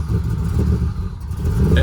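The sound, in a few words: rough-running engine revving under throttle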